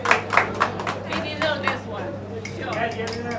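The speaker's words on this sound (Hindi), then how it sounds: "जोरदार तालियां हो जाए" An audience at a web series event claps in a few scattered bursts, sharp individual hand claps rising and fading over a low hum, with voices talking among them.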